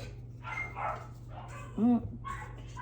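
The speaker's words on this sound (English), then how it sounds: "Dogs and cats are playing, or one's annoying the other." Dogs and cats playing indoors in a home kitchen, with a dog giving a couple of short close yips and barks amid scuffling noise over a low steady hum.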